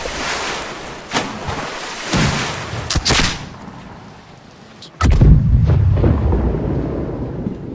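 Ship cannons fire during a naval battle in the pirate game Blackwake: several sharp booming blasts, some in quick pairs, then a long loud rumbling roar, over a background wash like sea and wind.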